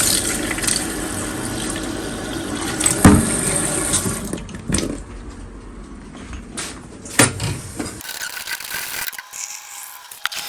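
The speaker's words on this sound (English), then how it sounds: "Let's get some water in. Don't want any soap left on there." Tap water runs steadily as gold jewellery from an auction lot is rinsed of soap after boiling, with faint clinks and knocks. The water stops near the end, leaving a quieter room.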